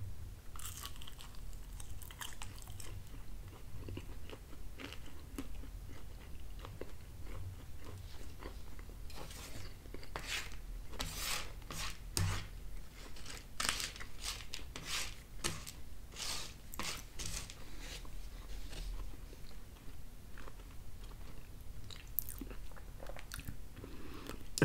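Someone chews and bites into a slice of Marco's Deluxe pizza close to the mic, with soft repeated crunches and wet mastication throughout at low volume, with no talking.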